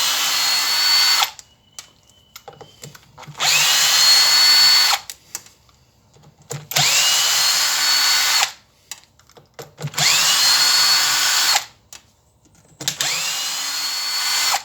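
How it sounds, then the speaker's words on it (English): A power driver whirs in four long steady runs, each split by short pauses, as it backs T25 Torx screws out of the air dryer cover on a Land Rover Hitachi or Dunlop air compressor, loud and close with no talk. "you've got 6 torque screws T25, so you need to remove these torque screws"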